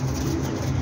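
Pigeons of the Teddy breed coo in a low, steady, continuous rumble, close and fairly loud with no talking over it.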